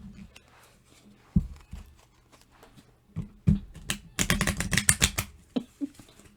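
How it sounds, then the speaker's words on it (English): A deck of tarot cards is shuffled by hand, starting with sparse soft taps and flicks, then building into a dense burst of rapid riffling clicks near the end, close and fairly loud, no talking. "In case y'all like to see me shuffle"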